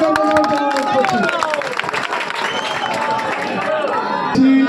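A crowd at a political rally bursts into applause and cheering, with dense clapping and voices mixed in and a speaker audible over the loud, sustained noise.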